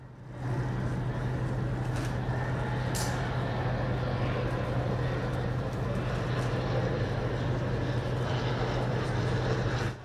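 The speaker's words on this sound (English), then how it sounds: "This included this three-ship formation of Italian-built ICP Savannah S ultralights." Three Italian-built ICP Savannah S ultralights fly in formation at an airshow in Bucharest, their propeller engines making a continuous, steady drone with a strong low hum and no voices.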